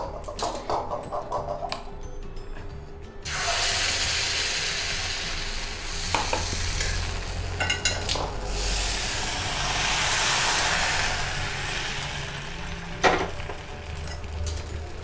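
Appam batter hits a hot kadai after quiet clinks, erupting into a loud, steady sizzle with hissing steam that holds for several seconds and briefly flares again near the end.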